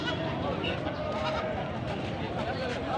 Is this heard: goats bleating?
yes